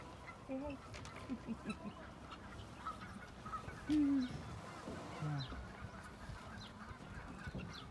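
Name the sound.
guinea fowl calling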